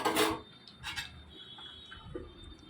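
A lid set down on a pot of spicy dried fish and potato curry gives a short metallic clatter, followed by a second softer clink and faint kitchen ticks in a quiet room.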